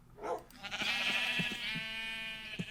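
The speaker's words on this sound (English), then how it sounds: "let's shear some sheep" Blocky Minecraft sheep give a drawn-out, quavering bleat as they are sheared, loud and near, with a few soft clicks and thuds from the game around it.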